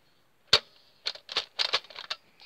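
Trigger of a Nerf Maverick REV-6 blaster clicking as it fails to fire: one sharp click, then a quick run of about eight close, loud mechanical clicks and rattles with short pauses, heard alone.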